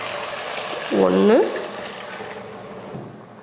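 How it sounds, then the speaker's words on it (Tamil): Water poured into a cooking pot of basmati rice with chickpeas, a short splashing gush lasting about half a second over a soft background sizzle, with a brief spoken word. "இப்போ தண்ணி சேர்த்துருவோம்"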